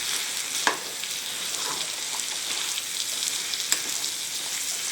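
Mutton chukka simmering in a pan as ground chukka masala powder is stirred through, a steady close sizzle with a couple of sharp scrapes of the spoon against the pan, no voices.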